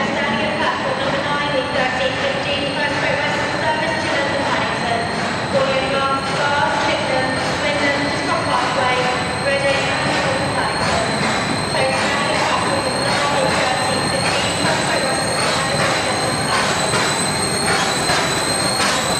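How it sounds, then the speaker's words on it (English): GWR King class steam locomotive 6024 King Edward I arriving beneath a curving station canopy, its Great Western exhaust echoing as a steady loud rumble with rhythmic beats throughout, no talk. "as the King arrives, and that famous curving canopy echoes to the bark of a Great Western exhaust"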